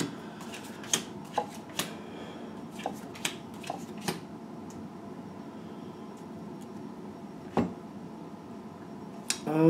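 Wisdom of the House of Night oracle cards being shuffled, a soft continuous riffling with a few sharper snaps and flicks scattered through, close and fairly quiet with no talking.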